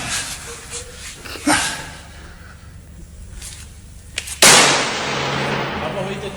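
A few sharp gunshot-like cracks ring out at a distance during group shooting practice, followed by a louder close bang that decays slowly into a lingering noisy tail.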